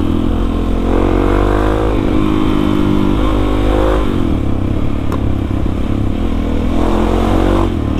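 A Suzuki DR-Z400 supermoto with a 400 cc single runs loud and close, its engine note climbing and dropping through several rev rises and gear changes as it rides through Bandung.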